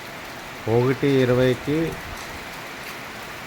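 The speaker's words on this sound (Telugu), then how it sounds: "వర్షం కురుస్తుంది. మంచి జోరు వర్షం." Heavy summer rain pours down at night, a dense, even hiss that continues steadily after someone speaks a few words at the start.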